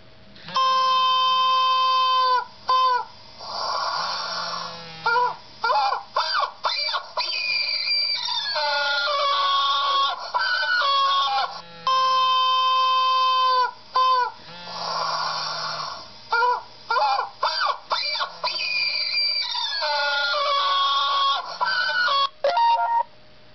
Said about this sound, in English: That was a beautiful homemade ringtone. Crazy chicken.